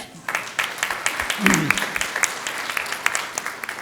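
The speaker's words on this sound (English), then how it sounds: "Let's give him another round of applause." A modest audience gives a speaker a round of applause after his presentation, a sparse scatter of individual claps in an uneven rhythm across four seconds, with a short voice near the middle.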